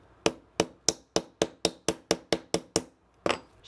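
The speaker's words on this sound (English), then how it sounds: "you just tap out that little roll pin there" Hammer tapping a roll pin out of a SCCY CPX-2 pistol trigger assembly: about a dozen sharp, evenly spaced metallic taps up close, then a short pause and one final tap.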